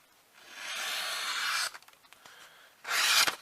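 A Spyderco Endura full flat grind knife slices through green wood after about two hours of outdoor use, giving two sustained rasping strokes with a quieter gap between them, close and alone.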